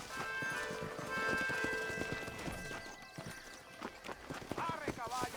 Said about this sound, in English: ¡Arre, caballo, arre! ¡Ya, caballito!